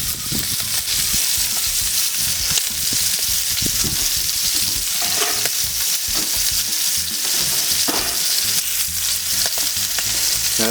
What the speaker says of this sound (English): I'm going to sear the other side of that now